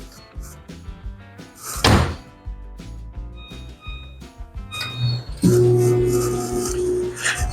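A microwave door shuts with a sharp solid thunk amid light kitchen clatter, followed by a beep and the steady hum of the microwave starting to heat butter.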